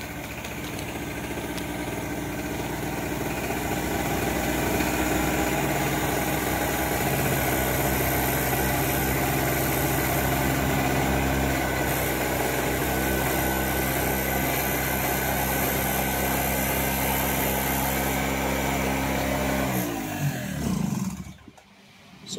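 A portable generator fitted with a TMX motorcycle ignition coil idles steadily and loudly with a constant engine hum, then is switched off and runs down near the end.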